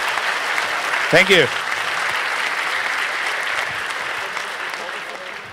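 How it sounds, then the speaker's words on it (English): Conference audience applauding speakers at a security talk, steady dense clapping from a crowd throughout, with a voice briefly speaking over it near the start. "Give them a big round of applause right now"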